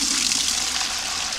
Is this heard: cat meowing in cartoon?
no